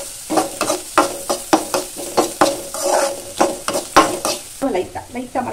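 Onion and spinach greens sauté in a pan, with repeated rhythmic scraping stir strokes over a steady sizzle of frying, close and fairly loud, with no talking.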